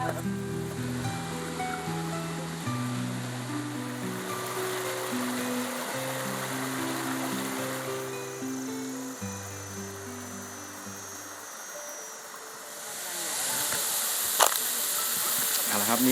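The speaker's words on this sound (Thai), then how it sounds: "คือบรรยากาศน้ำตกคำน้ำสร้างปี 2025นะครับ" A steady rushing roar of a waterfall hisses beneath background music, growing louder and fuller toward the end.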